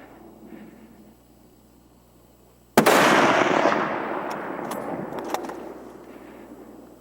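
A single loud rifle shot cracks out at close range during a moose hunt in Alaska by a canoe, followed by a long fading rumble; quiet outdoor ambience comes before it.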